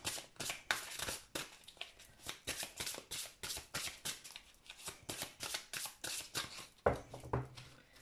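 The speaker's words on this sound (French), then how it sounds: "Je vais déjà mélanger mon jeu." A deck of tarot cards being shuffled up close, a steady run of crisp riffling and sliding bursts with short pauses between, no voices.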